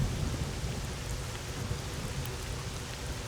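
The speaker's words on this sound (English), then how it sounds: "God, that rain is loud now." Loud, steady rain from the video game STALKER: Shadow of Chernobyl, a dense continuous downpour with low rumbling underneath, filling the whole stretch with no talking.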